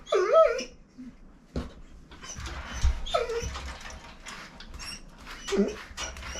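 A Maremma sheepdog being brushed during a deshedding bath lets out high whimpers and yips at intervals, close by, between quieter stretches of splashing and handling noise.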